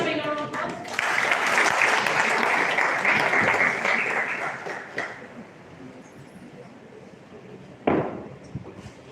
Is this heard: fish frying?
no